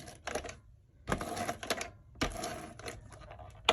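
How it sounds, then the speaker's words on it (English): A tape runner laying adhesive strips onto a handmade winter card, in several short bursts of dry clicking and rasping, close and fairly loud, separated by brief pauses. "I'm just going to quickly add some"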